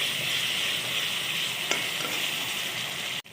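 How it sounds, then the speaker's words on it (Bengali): Chopped onions fry in hot mustard oil for a bitter gourd and mango curry, giving a steady, close, even sizzle throughout with a brief clink near the start and a short clatter near the end. "তেলটা গরম হয়ে গেলে এখন আমি পেঁয়াজ কুচি দিয়েছি, এটা একটু ভালো করে ভেজে নিব"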